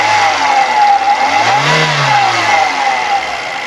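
A 2004 Hyundai Atoz GLS engine is revved up once, rising smoothly from idle to a higher pitch and settling back down, close and loud with no speech.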